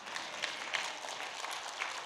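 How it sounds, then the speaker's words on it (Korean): A congregation at a church revival meeting applauds, a soft, even patter of many hands clapping at a distance for a couple of seconds. "박수 좀 쳐."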